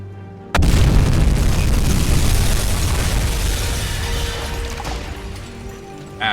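A torpedo strikes a ship in the submarine game UBOAT, a sudden deep boom bursting out and then rolling into a long, loud, rumbling explosion that slowly fades with crashing debris.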